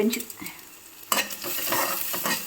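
Onions frying in a pan sizzle softly while being stirred, with a brief scrape and a fuller burst of crackling partway through, close and fairly quiet.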